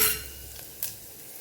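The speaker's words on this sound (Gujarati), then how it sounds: "પાંચ ચમચી જેટલી હિંગ ઉમેરશું" Asafoetida tipped into hot ghee and oil and stirred, a short burst of sizzle at first, then a soft frying hiss with a small utensil tap against the pan, close, no talking.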